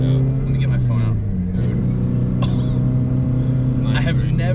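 Modified 2022 Subaru BRZ engine revving hard toward high RPM from inside the cabin, a loud sustained drone with rising and falling pitch as the car accelerates, while people talk over it.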